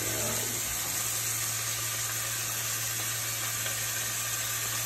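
Steak frying in a hot pan with oil, a steady loud sizzle and hiss that holds evenly from start to finish, joined by a constant background hum.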